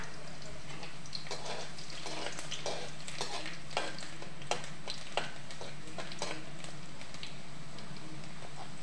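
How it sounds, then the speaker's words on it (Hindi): Chopped garlic sizzles steadily in a hot pan of oil as the base for spicy Indian vegetable noodles, with soft scraping stirs and faint crackles throughout and no talking. "मैंने पहले ये थोड़ा सा लहसुन डाल दिया है।"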